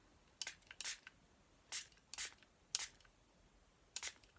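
Several short bursts of ink spray spritzed onto a dragonfly craft card, arriving in quick pairs and singles with quiet gaps between them, close and fairly soft.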